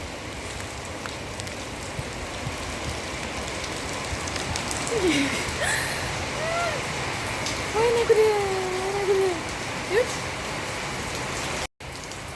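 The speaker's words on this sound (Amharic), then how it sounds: "እያችሁት እዩት እንዴት እንደሚዘንብ።" Steady rain pours down on a surface, a dense, even hiss lasting throughout, while a person exclaims and talks over it.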